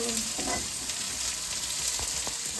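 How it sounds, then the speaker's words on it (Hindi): Chopped onions and garlic fry in a hot pan for a Chinese-style dish, a steady close hiss of sizzling oil with a few soft clicks of stirring and no talk. "प्याज डाल देने तो लहसुन भी लाल कर दिया मैंने"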